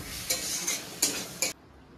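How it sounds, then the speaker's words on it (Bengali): Spices are stirred and fried in a pan for a muitha curry. Three quick scraping strokes of the spoon come over a hissing sizzle, and then the stirring stops. "ভালো করে মশলাগুলোকে কষিয়ে নেব।"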